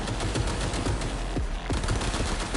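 Rapid gunfire from the video game Cyberpunk 2077 rattles in dense automatic bursts over a loud, continuous game soundscape, with no voices heard.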